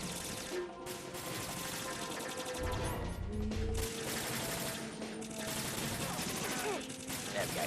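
Gunfire in the video game Metal Gear Solid 2: Sons of Liberty, a dense, continuous fusillade of shots and impacts layered over busy game sound, loud and sustained throughout.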